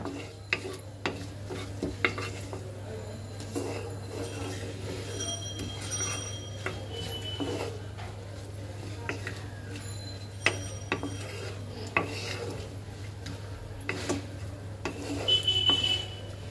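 Nuts roasting in a pan with bay leaf, cardamom and cinnamon, stirred continuously with a utensil that scrapes and clicks against the metal over a low hum, steady and close, no voices heard.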